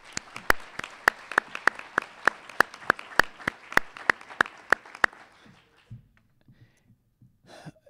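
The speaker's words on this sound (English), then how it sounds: "if we could give a round of applause for Anna Brecken" Applause at a school district awards ceremony, a run of sharp, evenly spaced claps that stops after about five seconds, followed by quiet shuffling and faint sounds.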